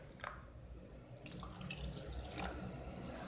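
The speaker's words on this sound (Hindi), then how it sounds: "पानी डालेंगे" Water is poured into glasses for a lemon mojito, a soft, continuous splashing trickle that stays faint and close with no talking.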